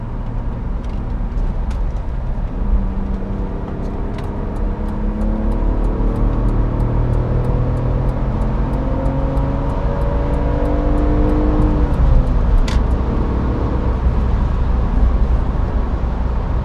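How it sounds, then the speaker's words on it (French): A 2001 BMW 320i E46 with the 170 hp M54 inline six-cylinder engine accelerates steadily for a long stretch. The smooth, continuous engine drone rises gradually in pitch and loudness, with no talking. "Il émet toujours la même sonorité caractéristique de cette génération de moteur de 6 cylindres en ligne."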